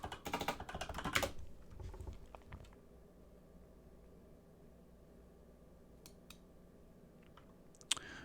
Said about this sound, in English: Here, I'll type in...